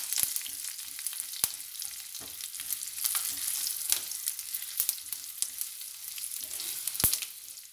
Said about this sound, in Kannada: ದ್ರಾಕ್ಷಿ ಎಲ್ಲ ಉಪ್ಕೊಂಡು ಬರ್ತಾ ಇದೆ